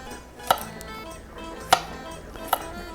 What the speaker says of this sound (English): So the way I do it is I just slice it fairly thinly,